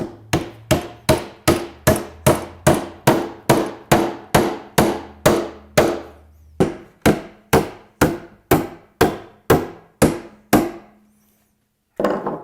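Nails are hammered into the base of a wooden planter box, eight nails in all, in a steady run of about twenty sharp close hammer strikes at even intervals, ending with a brief gap and one last blow; no one speaks.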